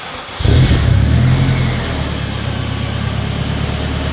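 A Honda Civic Si fitted with a Vibrant 3-inch cat-back exhaust, muffler and resonator starts and revs loudly, then settles into a steady, deep idle close by.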